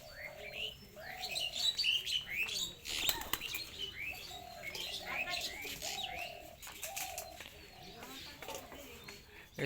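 Soft, repeated pigeon cooing from a few birds at moderate distance, mixed with light chirps and brief wing flutters.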